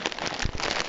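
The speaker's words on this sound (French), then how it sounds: "Il pleut." Rain falls in a dense, even patter of drops on a surface, close and fairly loud, steady throughout a brief moment with no talking.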